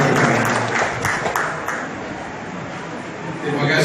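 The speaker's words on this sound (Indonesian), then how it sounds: "Kita berikan tepuk tangan yang meriah untuk para narasumber dan moderator kita." Brief burst of lively audience applause for the speakers and moderator at an interfaith talk show, dense clapping with some crowd murmur that eases slightly midway before swelling again.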